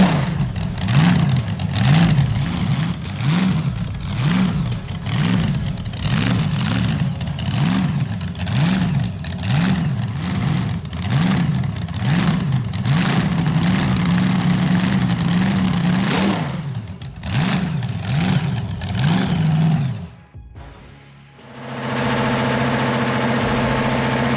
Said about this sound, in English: it now breathes through gleaming stacks, shaking the ground with brutal low-end torque and that unmistakable thunderous idle